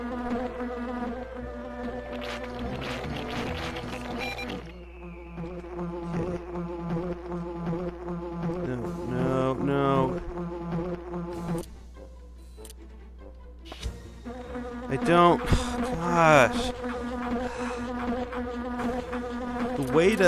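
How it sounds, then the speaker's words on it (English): Bees buzz in The Grinch video game on Dreamcast, a droning insect hum with wavering, swooping pitch that comes and goes in bursts over game music, fairly loud and close. "Pretty sure these bees just have their own rules."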